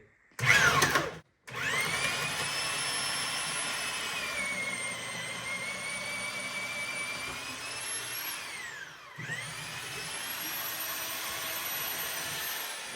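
A loud power drill whines continuously, its pitch sagging and rising as it bores through wood in a fixer-upper house during electrical wiring work, after a brief burst of noise at the start.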